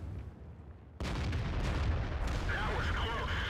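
An artillery gun fires a shell in the World of Tanks video game: a sudden heavy boom, then a sustained rumbling roar with crackling debris, loud and close.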